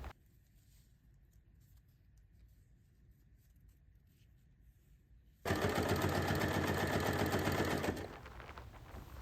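A sewing machine top stitches bias binding over a seam on a fabric pencil case, bursting into a loud, rapid rattling run for a few seconds after a quiet stretch of faint handling, then easing down.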